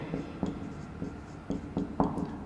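Chalk or marker strokes on a board during a chemistry lecture, a series of short scraping taps in an irregular rhythm, close and moderately quiet, with no talking.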